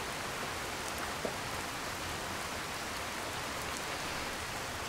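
Steady rain falls in Skyrim Special Edition near Falkreath, a continuous hiss of drops on the ground with no voices, even and unbroken throughout.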